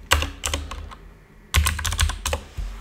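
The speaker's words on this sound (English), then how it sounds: "I can simply demonstrate it by typing" Keystrokes on a computer keyboard, a quick burst of clicks, a brief pause, then a second run of several taps, close and fairly crisp with no talking.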